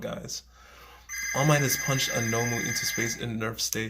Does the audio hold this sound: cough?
no